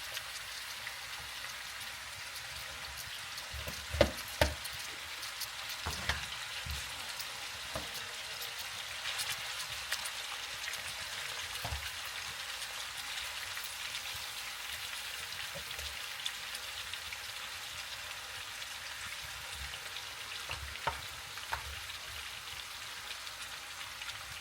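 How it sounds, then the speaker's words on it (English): Pieces of neck tail meat searing in a pan for a stew, a faint, steady crackling sizzle with scattered sharper pops throughout, heard alone without talk. "So we're going to let this sear on both sides, and then I'll put in the next batch."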